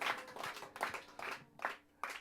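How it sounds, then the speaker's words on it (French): An audience at a French chanson performance claps in a few uneven bursts with short gaps between them, moderately loud and close, with no talk over it. "La preuve, vous avez autant applaudi que les précédentes."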